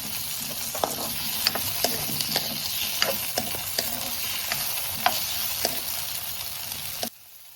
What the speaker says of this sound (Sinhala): දැන් අපි ඉස්සෝ ටික ෆ්‍රයි කරගමු.